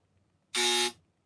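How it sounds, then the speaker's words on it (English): A trivia night game buzzer sounds once: a loud, harsh, steady electronic buzz lasting about a third of a second, alone against a quiet room. "That's the buzzer you're going to hear a lot of tonight, by the way."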